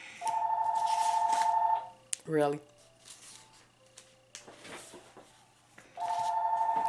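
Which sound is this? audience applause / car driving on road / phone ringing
phone ringing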